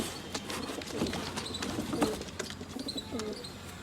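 Pigeons of top-quality breeds coo softly in repeated low calls with a few chirps, fairly faint and close, with no talk over them.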